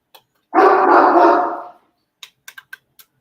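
A dog barks at a window once, a single loud, drawn-out bark close by, followed by a quiet room with several light clicking taps.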